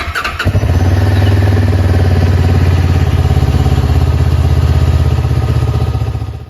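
Stock exhaust of a CF Moto 700 CLX motorcycle, starting and then running loud and close with a steady, throbbing low rumble for several seconds, no talking.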